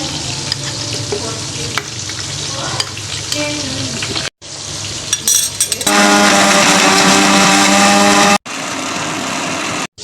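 Onions sizzle and crackle steadily in a hot pan, a loud continuous frying hiss with some stirring clatter and brief breaks.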